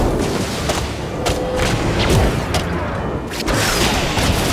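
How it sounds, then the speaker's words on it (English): Fort destruction in Heroes of the Storm on the Haunted Mines map: a dense run of booming, crashing explosion bursts with several sharp impacts over steady loud game noise. "Blue team has destroyed a fort."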